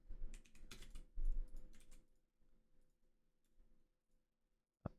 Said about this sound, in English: I'm getting a lot better at typing without a finger